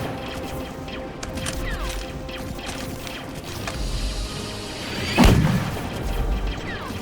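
Mortar fire in a video game: one heavy, close boom lands partway through, standing out above a steady churn of mechanical clatter and rumble.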